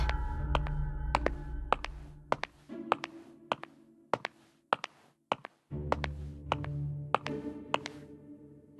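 Footsteps and taps on hollow-sounding flooring in the game Identity V, a series of sharp, distinct knocks at an irregular rhythm over low ambient music.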